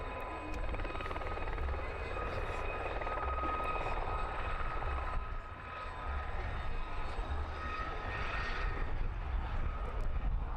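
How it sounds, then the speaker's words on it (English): An ex-Empire Test Pilot School HT2 helicopter hovers close to the crowd at an air display, its rotor chop and turbine whine forming a continuous, fairly loud drone. "Helicopters at air displays are allowed to come in very close to around about 75 meters"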